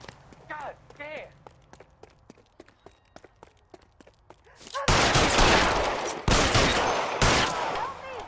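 Gunfire in the crime video game L.A. Noire: a rapid run of sharp shots in a regular rhythm, then a loud dense volley of blasts near the end. Voices talk over the early shots.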